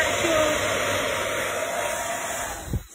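Hair dryer blowing over a dog's coat during grooming, a steady close rushing whoosh that holds for a few seconds before a brief bump at the end.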